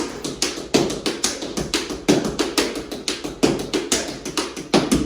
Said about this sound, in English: the Shirley Temple, or whatever you might call this step. Flap, heel, heel